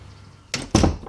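A door swings shut indoors with two quick, fairly loud thuds close together, the second heavier, after a moment of quiet room tone.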